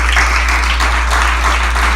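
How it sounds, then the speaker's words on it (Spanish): A church congregation applauding during a Christian sermon, a steady crowd of hands clapping over a low constant hum, moderately loud and continuous with no voices on top. "¿Alguien le da un aplauso al Señor?"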